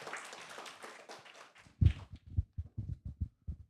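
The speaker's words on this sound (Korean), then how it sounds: "예, 축복의 박수." A small church congregation gives a short round of blessing applause after a prayer, scattered uneven claps starting loosely and settling into a few soft, distinct hand claps, fairly quiet and close.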